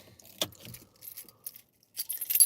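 A keychain with a small EDC knife attached jangles in a few quick bursts of metallic clinks, close and fairly quiet, with brief pauses between shakes.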